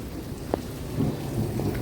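Rain falls steadily at Lakhota Lake in Jamnagar while a low, distant thunder rumble rolls underneath, with one brief sharp tap partway through.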